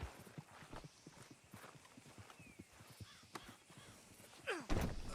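A horse in Red Dead Redemption 2 walks with quiet, evenly spaced clip-clopping hooves, fairly faint and close, with a few soft thunks and a brief swishing noise near the end.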